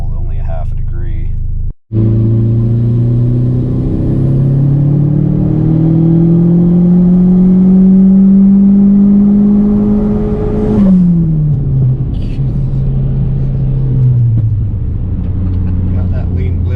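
A Neon SRT4 engine with a water-methanol injection kit pulls hard under throttle, its loud, close drone climbing steadily in pitch, then dropping away as the throttle is released, fading to a lower idle-like hum.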